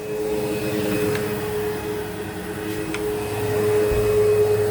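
A vacuum cleaner drones steadily in a hotel hallway, a continuous loud whirring hum with a sustained tone and a few faint clicks, slightly swelling toward the end.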